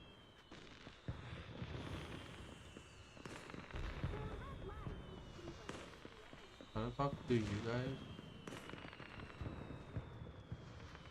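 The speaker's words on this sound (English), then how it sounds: "Why do I hear fireworks here?" Fireworks burst in Zenless Zone Zero with scattered muffled pops and crackles in the distance. A person speaks over the bursts.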